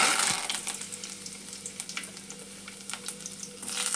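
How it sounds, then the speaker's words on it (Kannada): Mustard seeds and curry leaves crackling in hot oil in a kadai, a dense, steady spatter of tiny pops and sizzling, close and fairly even, with no voices. "ಎಣ್ಣೆ ಕದೈತಿ ನಾ ಸಾಸಿವೆ ಹಾಕ್ತೀನಿ ಚಟಪಟ ಮಾಡ್ತಾರೆ ಕರಿಬೇವು ಹಾಕ್ತೀನಿ"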